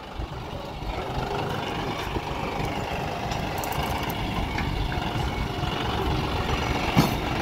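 A John Deere 5310 tractor fitted with a dozer blade runs its diesel engine in a steady, close, low rumble that holds throughout, with a few faint clanks near the end.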